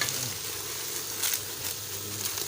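Ghee melting in a pan for a roti halwa gives a steady close sizzle with faint crackles and a few soft stirring scrapes, with no talking over it.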